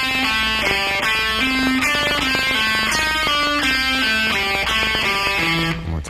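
Electric guitar playing a rock pentatonic lick built from a repeating descending sequence of five-note groups, fast articulated notes in steady rhythm, loud and close, with no talking.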